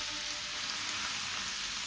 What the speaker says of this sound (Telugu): ఇప్పుడు గుమ్మడికాయ తురిమి ఈ నేతిలో వేసి వేయించుదాం.